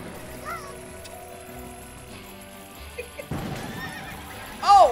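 A cartoon donkey brays in a slot machine game on a social casino, one loud short bray near the end after soft game chimes and jingles.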